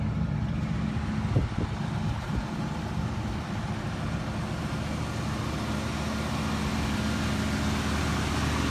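A 1987 Cadillac Brougham engine idles smoothly and quietly, a steady low hum with a few brief knocks near the start, no talking.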